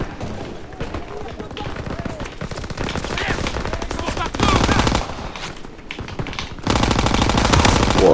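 A machine gun firing on a staircase in a video game, rapid sustained bursts of gunfire that grow louder and denser in stretches, with someone talking over the shooting.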